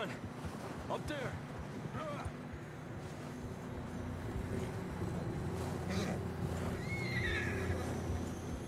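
Horses whinny and snort amid the clip-clop of hooves in Red Dead Redemption 2, set over steady ambient rumble and water-like wash, with a few neighs standing out clearly.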